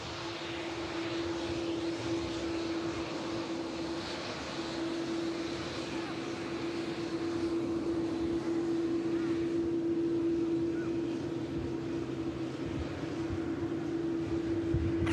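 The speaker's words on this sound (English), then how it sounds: "Dreamliner about to roll past." A Boeing 787 Dreamliner rolls past at Manchester Airport, a steady, moderately distant engine whine and broad rumble holding a constant tone throughout, with no sharp changes.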